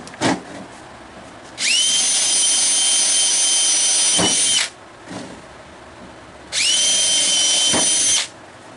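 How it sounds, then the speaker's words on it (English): A power drill with a 1/8 inch bit pre-drills screw holes in a wooden glider bench, two loud, high whining bursts of about three and two seconds, separated by short knocks and handling clatter. "I'm going to pre-drill it with this 1/8 inch bit."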